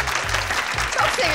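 A brief burst of applause sounds under and alongside talk in a scene from the Turkish TV series Early Bird, with clapping continuing through the short moment.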